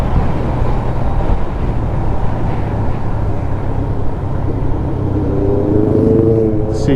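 Car with a 4-cylinder engine passing on a narrow mountain road, a steady low rumble and drone with a rising engine note near the end, heard from close by without talk.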